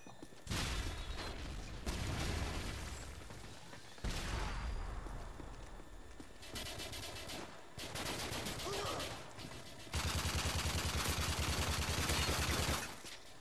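Gunfire from Modern Warfare 3 played on the Wii, with rapid bursts of automatic shots and sharp single reports in several loud clusters, fairly quiet overall, with a voice talking at times.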